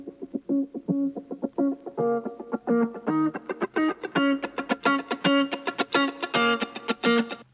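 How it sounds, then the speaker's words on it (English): Filtered, effects-processed guitar playing a rhythmic, repeating figure that previews the main synth melody ahead of a pop drop, steady plucked pulses building brighter and louder over about seven seconds with no voice. "This was a filtered guitar"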